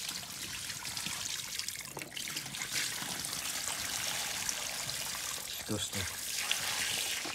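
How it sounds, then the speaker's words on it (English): Dirty water left from degreasing kitchen walls and ceiling is poured into an outdoor drain, a steady splashing pour running the whole time under a person's occasional talk. "I'm going to put it in the drain, not down the sink."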